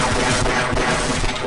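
Turret gunfire in the Half-Life mod Smart Decoy: a dense, continuous loud stream of rapid shots with no break.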